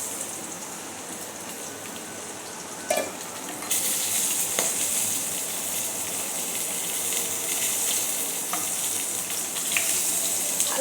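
Tomato dropped into hot oil in a pan for khichuri, an even steady sizzle that jumps louder when the tomato goes in and then holds, with a few soft stirring knocks.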